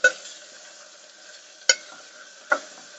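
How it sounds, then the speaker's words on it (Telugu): Ginger and garlic frying in oil for a mutton curry, giving a steady low sizzle with a few sharp stirring clinks from the pan, close and moderately loud. "ఈ అల్లం వెల్లుల్లిపాయ కూడా ఈ ఆయిల్లో బాగా ఫ్రై అవ్వాలి"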